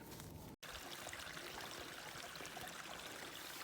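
A stream running across a hiking trail on the Ouachita National Recreation Trail after heavy rain, a steady close rushing and pouring of water that fills the whole stretch, with one sudden brief dropout near the start.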